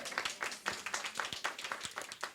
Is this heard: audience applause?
yes